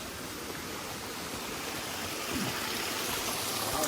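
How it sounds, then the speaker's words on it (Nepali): Steady rushing water pours from a village water spout in rural Nepal, a continuous dense splashing flow that holds even and loud throughout with no other sounds. "यहाँ चाहिँ धारा झर्दैछ है"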